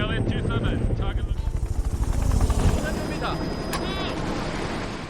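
A helicopter spreading sodium flies low overhead in a film scene, its rotor chopping loud and rhythmic before fading into a rushing roar, with voices and radio chatter over it.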